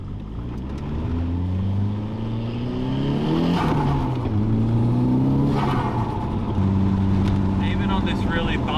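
A Nissan S13 with a reinforced front steering brace drives along a bumpy road, its engine droning and shifting pitch as it speeds up and slows, with a voice speaking over it.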